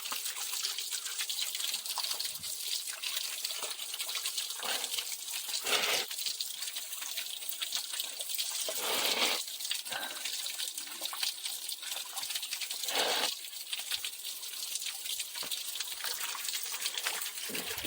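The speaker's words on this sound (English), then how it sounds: "apparently just fresh running water" Fresh water runs steadily at the original source of a shrine's holy water, a continuous rushing and gurgling that holds for the whole stretch with a few louder surges, with no talking.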